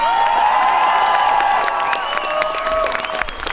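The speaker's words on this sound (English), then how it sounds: "Let's give a cheer to Plymouth and the rally." Loud cheering from a crowd gathered at an outdoor protest in Sheffield, massed shouts and whoops held for a few seconds with scattered clapping, easing off slightly at the close.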